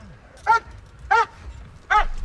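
A police dog gives three sharp, separate barks spaced about half a second apart, fairly close and loud over a low background.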